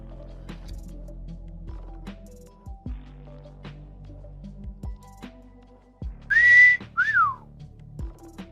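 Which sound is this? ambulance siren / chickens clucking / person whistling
person whistling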